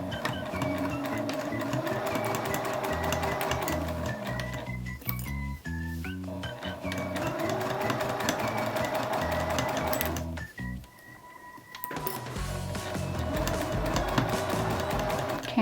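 Sewing machine fitted with a zipper foot stitching along a zipper on a reusable snack bag, a loud rapid mechanical whir that pauses briefly twice, with short clunks in between.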